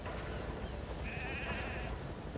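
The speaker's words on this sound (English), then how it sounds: "we see our friends, the sheep and Jackie, have made it back to Mother Base safely" A single sheep bleat sounds from the Metal Gear Solid V: The Phantom Pain base, one wavering cry lasting under a second over a quiet ambient hum.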